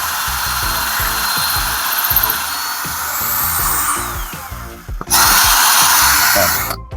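A power drill bores through a house wall at high speed to fit an outdoor electrical outlet. Its whining motor runs loud and close, cuts out briefly, then surges back harder before stopping.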